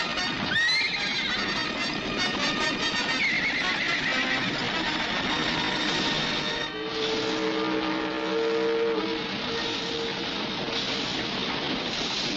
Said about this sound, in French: À présent, chasse les chevaux que le lieutenant Travis a trouvés.